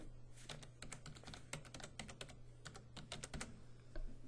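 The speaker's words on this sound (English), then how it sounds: "that's what I get for typing and talking" Quick, irregular keystrokes clatter on a computer keyboard, a steady run of sharp clicks over a low constant hum.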